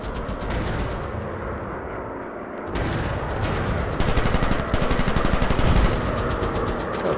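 Rapid machine-gun fire from a WW1 fighter plane in an aerial combat video game, rattling bursts over a constant engine drone, growing louder and denser toward the end.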